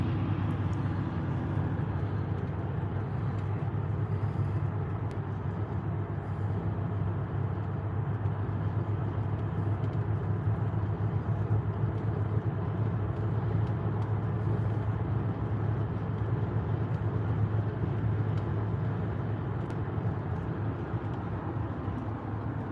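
Classic cars, including many late-1960s Camaros and an old wrecker, cruise past at a car show with a steady, broad engine rumble and road noise that holds evenly throughout, fairly close, with no talk.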